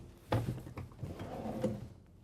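Soft-closing drawers in a 2024 Newmar Essex 4551 motorhome slide open and shut, giving a few soft thumps and sliding rumbles close by over roughly two seconds, with no one speaking.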